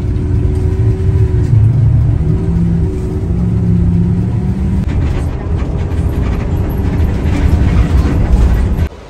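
Inter-city passenger bus on a long-distance trip, its engine rumbling loud and steady from inside the cabin, with tonal drone shifting as it changes pace midway and continuing unbroken to the end.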